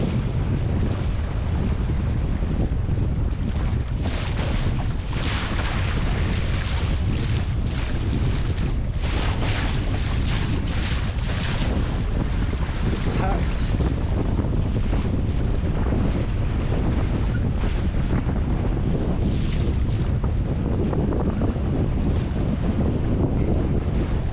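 Strong wind of about 20 mph gusts roars steadily across the microphone, with rushing water and hull noise from a moving, heeling sailboat, loud and continuous throughout.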